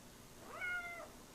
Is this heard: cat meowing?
yes